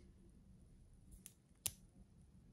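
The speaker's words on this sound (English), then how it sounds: "these electric scissors are really sharp, so you just press the nickel strip like this and twist like this" Electric scissors snip a nickel strip off an 18650 lithium-ion cell, giving a faint click and then one sharp metallic snap against a quiet background.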